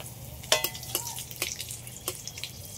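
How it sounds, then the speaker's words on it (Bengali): Dried red chillies and bay leaves frying in hot oil, giving a close, crackling sizzle broken by several sharp spitting bursts. "দুটো শুকনো লঙ্কা কেটে নিয়েছি, আর দুটো তেজপাতা তেলের উপরে দিয়ে দিচ্ছি"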